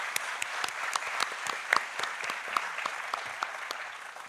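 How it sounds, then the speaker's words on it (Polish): Audience applause at a festival closing ceremony, a dense steady wash of many hands clapping throughout, moderately distant with a few sharper individual claps standing out. "Wielkie brawa."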